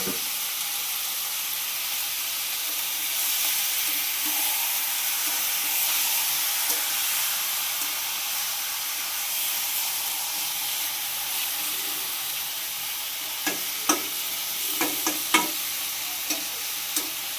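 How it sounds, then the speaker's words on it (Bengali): Chicken pieces sizzle loudly in hot oil, following fried potatoes, in a rural Bengali kitchen, with a continuous hiss and a run of sharp stirring scrapes and clacks near the end. "তেলটা গরম হয়ে গেছে, এবার চিকেনটা কিন্তু দিয়ে দিলাম।"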